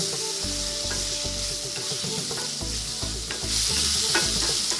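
Fried dried fish is stirred into a tomato mixture in a pan, a steady hiss of frying with scraping and clinking from the stirring utensil, growing slightly louder toward the end.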